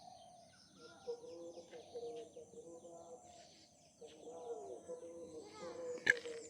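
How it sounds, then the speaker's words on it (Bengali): Sparrows emerge from bushes in a village, chirping in soft, scattered bursts, mostly faint and a little distant, with a sharper call near the end. "এবার এখানে কিছু চড়ুই পাখি"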